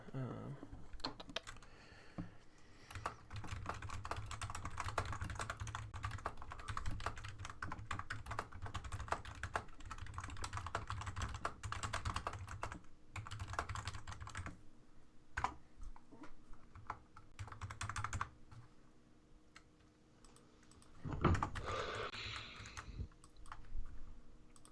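Typing on a computer keyboard, a long run of quick, light key clicks at a steady close-up rhythm that continues for most of the stretch, with a brief pause and low talk in the background.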